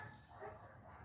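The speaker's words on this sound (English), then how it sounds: "Excuse my dog." A dog outdoors gives faint, distant yips and whimpers, muffled and low against a steady wash of outdoor background noise.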